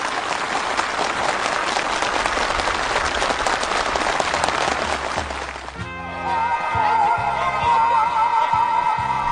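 Enthusiastic applause from participants at a housewarming ceremony for new homes in Sinhung County, South Hamgyong: dense, steady clapping from a large crowd, giving way to festive music with a melodic line.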